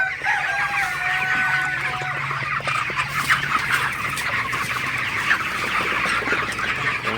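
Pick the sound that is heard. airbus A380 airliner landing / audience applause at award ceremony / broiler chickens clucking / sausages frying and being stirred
broiler chickens clucking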